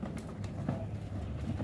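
Pigeons coo softly in a loft as racing birds are readied for a training toss, a low, steady murmuring cooing with a faint background hum.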